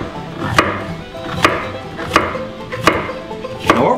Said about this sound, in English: we want to cut them into French fry pieces